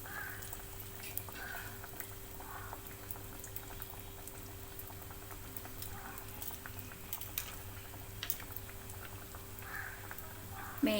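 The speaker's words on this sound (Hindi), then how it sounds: "अब एक एक हम लोग बिल्कुल ही संभाल कर एक एक टिक्की को फ्राई करेंगे।" Chicken burger patties frying one at a time in hot oil in a kadhai, a soft, steady bubbling sizzle with light patter that stays constant and fairly quiet, with a faint hum underneath.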